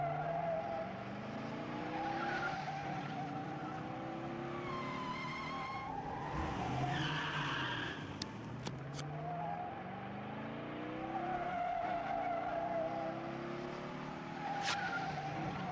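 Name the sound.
car skidding and racing in Over the Alps video game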